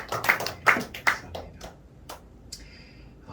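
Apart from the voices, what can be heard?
church congregation clapping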